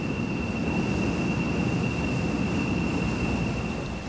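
A metre-gauge Mont Blanc rack railway train runs along, a steady close rumble with a faint high whine holding constant throughout, no voices.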